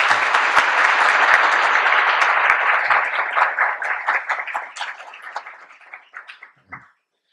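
Audience at a Pusan National University research lecture applauds in congratulation of a professor's academic award, a loud dense burst that thins into scattered separate claps before stopping.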